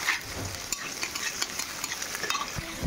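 Onions frying in a few spoonfuls of oil, a close crackling sizzle dotted with quick pops and scraping clicks, with no speech.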